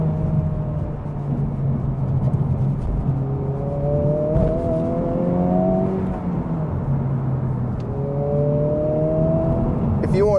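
2023 Honda Civic Type R engine pulling through the gears on a wet road, a droning rise in pitch that drops at each shift, mid-level and fairly steady, with a few faint clicks.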